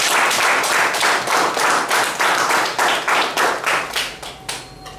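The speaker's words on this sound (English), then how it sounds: "Give her a big round of applause." A meeting audience claps for the MC, distinct hand claps forming a brisk, rhythmic applause close by that thins out and fades toward the end.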